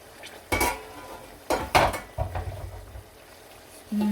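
A metal pot lid lifted off a pan of aloo bhujiya, giving a few loud close clanks and scrapes of metal on metal, then a short sizzling rustle and a brief soft tap.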